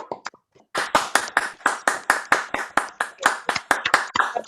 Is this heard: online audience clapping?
yes